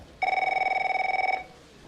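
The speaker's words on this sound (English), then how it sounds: "Phone." An office desk telephone rings once, a steady loud electronic trill lasting about a second, alone with no talk over it.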